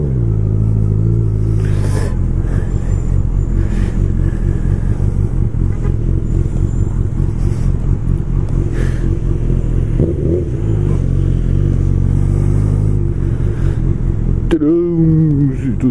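Road traffic in Macaé rumbles loud and continuous around a moving motorcycle, with engine drone, passing vehicles and clattering, and a voice briefly speaking.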